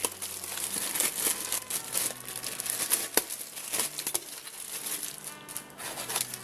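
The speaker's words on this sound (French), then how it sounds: "alors on va déballer ça tout de suite" Tonor XRL microphone being unpacked on a table: steady close crinkling and rustling of packaging with a few sharper crackles and taps, no talking.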